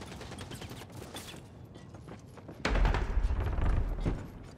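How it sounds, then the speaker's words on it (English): A Ratling gunner in Warhammer Vermintide opens fire with a loud, sustained rattling burst that starts abruptly partway through and continues for over a second over ongoing game noise. "Watch out! Rattling gunner!"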